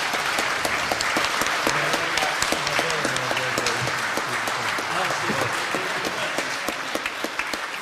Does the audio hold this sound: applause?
yes